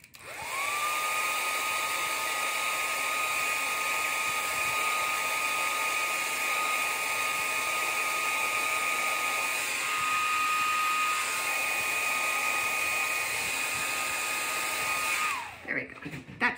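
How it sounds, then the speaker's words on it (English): A handheld blow dryer drying damp watercolor paint on a rooster painting runs loud and close for about fifteen seconds, a steady whirring roar with a high whine, then cuts off at the end. "I'm going to pop my blow dryer on it for literally just a couple seconds"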